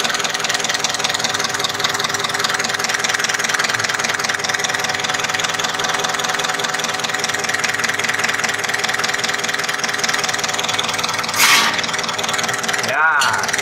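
A Mitsubishi Canter truck's diesel engine idles steadily and evenly throughout, a continuous close-up rumble with a couple of brief scrapes or clicks near the end.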